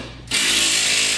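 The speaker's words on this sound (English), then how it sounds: "We're gonna torque those to about 65 or 70" A torque wrench ratchets on Camaro suspension bolts during a gear and suspension upgrade, a loud, dense, continuous clicking that starts abruptly after a brief quiet moment, with no talking.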